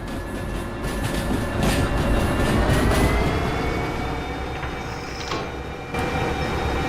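A train running in the railway simulation game Derail Valley, a steady rumbling mechanical drone with faint high whines, continuous and fairly loud throughout, with no talk.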